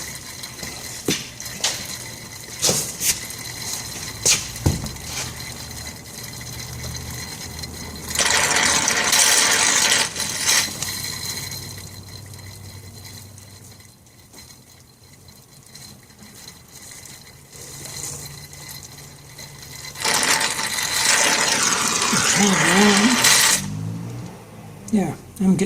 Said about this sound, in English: Just kind of sucking that oil out.